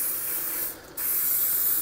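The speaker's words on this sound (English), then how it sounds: "I make sure I spray liberally" Cooking spray hissing onto a cake pan, two close, loud bursts of spray separated by a short pause.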